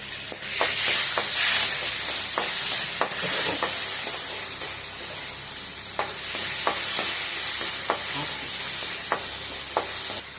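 Mustard seeds frying in hot oil for ginger and green chili pachadi, a continuous sizzle with scattered sharp pops and crackles, close and fairly loud, no talking.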